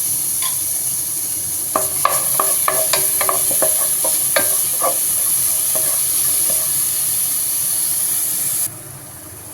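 Chopped shallots sautéing in a pan with ginger and garlic for sweet corn vegetable soup, a steady close hiss under repeated clicks and scrapes of a spoon stirring, ending in a quieter tail.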